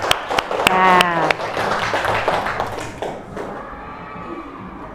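Brief audience applause in a classroom during a teaching assessment, a short burst of clapping from a group that fades quickly as a voice speaks over it.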